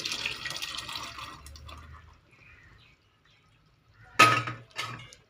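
Water left from boiling field beans splashes and trickles briefly into a pot of dried-fish curry, with clinks of cookware in a quiet kitchen and short gaps between pours.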